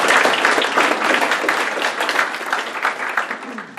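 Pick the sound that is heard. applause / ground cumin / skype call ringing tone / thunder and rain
applause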